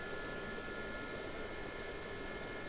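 A Gazelle helicopter in flight fills the air with a steady, dense, unbroken roar and whine, heard close up with no pauses or changes in level.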